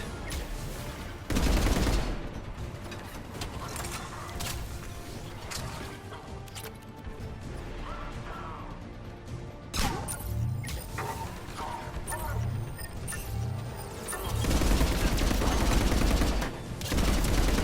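Mass Effect 3 combat sounds with a mounted turret firing, rapid bursts of gunfire, sharp impacts and crashes, and an especially loud sustained volley near the end, all dense and continuous with no clear gaps.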